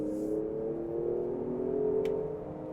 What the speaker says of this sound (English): 3-liter turbocharged engine.